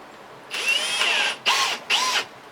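A power drill whirs loudly in three bursts, drilling into recycled timber, one long run followed by two shorter pulses, close by with no talking.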